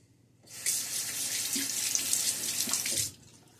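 A tap runs steadily for about two and a half seconds to rinse a Timeless stainless steel .68 open-comb safety razor between shaving passes. The splash is close and even, then stops, with no talking.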